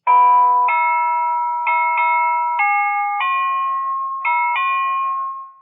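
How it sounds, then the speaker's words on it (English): A doorbell at an old house door rings a loud, clear electronic chime melody of about eight sustained tones in steady sequence, close and alone. "I'll ring the bell."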